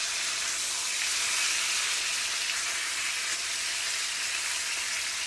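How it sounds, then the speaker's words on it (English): A T-bone steak sears in a hot pan, giving a steady, loud, unbroken sizzle that holds its level from start to finish with no talking. "Now we're gonna sear this side."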